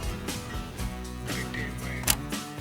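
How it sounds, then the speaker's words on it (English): A single-lens reflex camera's mirror flips up and its shutter fires, giving a few sharp mechanical clicks and thunks against a busy tonal background. "when you press the shutter button you see black for a moment through the viewfinder and hear a thunk"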